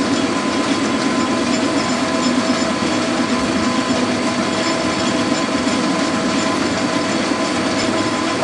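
A machine cuts a homemade alloy bar with a steady, dense grinding and whirring roar that holds an even level throughout, close and loud with no voices.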